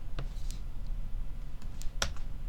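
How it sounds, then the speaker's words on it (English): Scattered keystrokes on a computer keyboard, entering rocket part parameters: a few light, close clicks at an irregular pace in a quiet room, with no voices. "So you'll type in the parameters of your"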